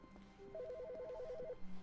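A telephone rings in The Stanley Parable, a single burst of fast trilling electronic warble lasting about a second over a quiet room tone, no speech.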